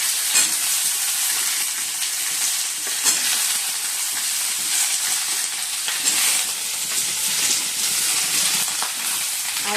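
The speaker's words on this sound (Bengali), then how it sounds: "কড়াইতে তেল দিয়ে দিচ্ছি আর 5 ফোড়ন দিয়ে দিচ্ছি।" Beans, potato, brinjal and radish frying in hot oil with five-spice seeds in a kadai, a loud, steady, hissing sizzle with scattered stirring clatter throughout, no speech.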